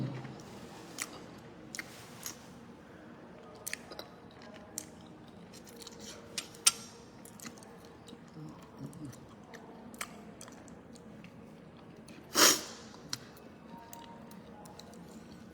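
Someone eats crispy food with chicken feet and egg over Thai rice noodles in curry, giving sparse, close crunches and sharp bites spread over a quiet background, with one louder crisp snap near the end.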